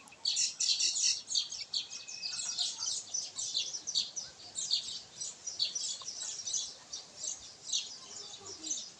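A common myna chick kept as a pet chirps in quick, high, repeated bursts close by, with short breaks between the calls.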